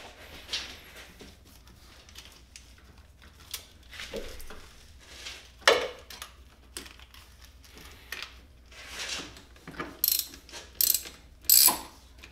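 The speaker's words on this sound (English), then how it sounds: "your good old 12 millimeter socket that we need in order to access that, that sensor" A 12 mm socket ratchet works loose the temperature sensor on a 1999 Honda Civic. Bursts of close, rapid pawl clicking come in uneven strokes, with short pauses and a few metallic clinks.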